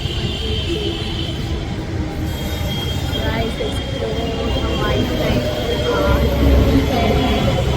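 A metro train rolls along the rails with a steady rumble and faint squealing wheels, continuous and close, growing slightly louder toward the end.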